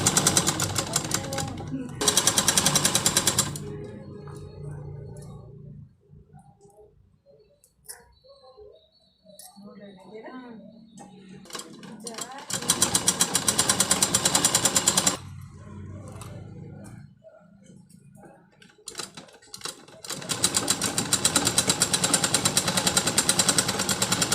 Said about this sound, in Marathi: डबल शिलाई मारायची आपल्याला